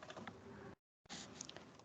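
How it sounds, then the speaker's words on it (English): Typing on a computer keyboard, a quiet close run of rapid key clicks in two short bursts separated by a brief gap of silence. "in expression, I start typing in this box"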